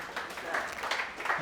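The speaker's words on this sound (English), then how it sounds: "Round of applause, pretty please." Applause from a small group at a fitness training session, a short burst of scattered clapping at moderate level lasting just over a second.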